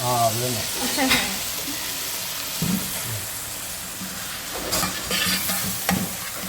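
Mango pickle being stirred in a pan, a continuous sizzle broken by repeated scraping stir strokes, with a brief voice at the start.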